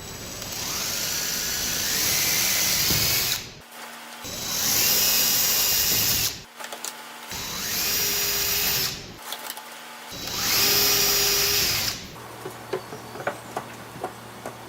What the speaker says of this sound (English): I'm going to drill through these just enough to put a little hole in the blocks behind it